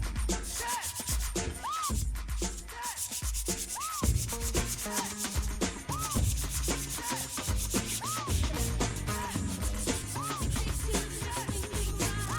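Sandpaper rubbing steadily over a worn 21-year-old Mercedes steering wheel, a continuous close scratchy hiss with rhythmic strokes roughly every two seconds, no talking.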